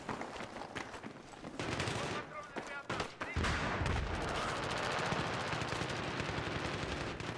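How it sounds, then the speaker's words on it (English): Gunfire in Battlefield 3 on the Close Quarters map Donya Fortress, with dense, continuous automatic fire and crackling shots filling the mix after a brief lull, loud and close. "Thank you for reviving me in while there's guys shooting at me, teammate."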